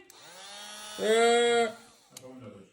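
An angle grinder runs against scrap metal for a spark test, its motor rising into a loud, steady harmonic whine for under a second before spinning down, with lighter grinding noise around it.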